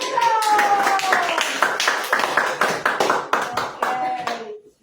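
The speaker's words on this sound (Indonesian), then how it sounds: "Tepuk tangannya dong" A classroom of students claps after a poetry reading during a practice teaching lesson, a short burst of uneven, close hand claps with faint voices mixed in, fading out at the end.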